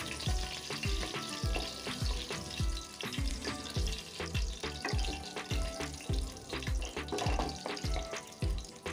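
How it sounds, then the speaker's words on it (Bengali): Whole cumin seeds, cardamom and cinnamon crackle and sizzle in hot oil in a wok, with a steady busy spitting and repeated clacking stirring strokes close by, no talking. "কড়াইতে আবার তেল দিয়ে দিয়েছি। দিয়ে গরম মশলা হিসেবে জিরে ফোড়ন, তারপরে এলাচ দারচিনি দিয়ে দিলাম।"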